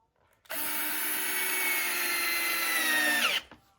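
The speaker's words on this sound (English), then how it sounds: "Pre-drill it, countersink." A power drill whirs steadily for about three seconds, close and loud, pre-drilling into a wooden butcher block countertop before spinning down abruptly.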